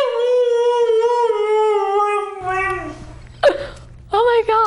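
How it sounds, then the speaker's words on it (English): A dog howls in a long, sustained, wavering tone, loud and close, then breaks into shorter yelping howls, with a person's voice briefly under it. "What an absolutely funny dog."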